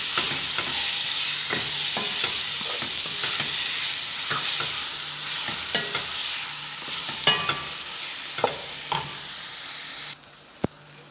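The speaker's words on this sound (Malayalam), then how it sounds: "നല്ലപോലെ വഴറ്റി ഒരു 5 മിനിറ്റ് ഇങ്ങനെ വഴറ്റിയതിന് ശേഷം മൂടി വയ്ക്കാം." Salted ingredients for a coconut chicken curry sauté in a pan. A steady close sizzle runs under repeated stirring scrapes and taps, then drops to near quiet with a final knock near the end.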